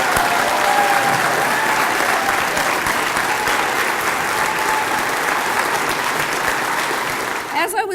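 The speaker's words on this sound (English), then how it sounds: "please give a big round of applause in celebration of Kaetlyn and Liam and their success" Sustained applause from an audience celebrating two Olympic and Paralympic athletes, Kaetlyn and Liam, at a recognition event; steady, dense clapping fills the room for several seconds before tapering off near the end.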